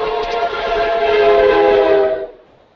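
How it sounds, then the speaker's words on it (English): A train rumbles past close by near the ocean, a steady loud roar with tonal horn-like bands lasting about two seconds before fading away quickly. "there's our first complimentary train going by here"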